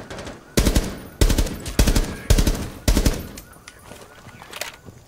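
Machine gun fire in the video game Rainbow Six Siege rings out in five loud, evenly spaced bursts, each made of rapid stacked shots with a short echoing tail. The sound is close and has no talking over it.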